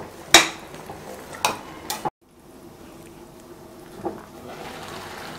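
A spoon stirring carrot and coconut kootu in a metal pot, with a few sharp scrapes and knocks against the rim, then a quiet simmering hiss and one soft clink, no talking.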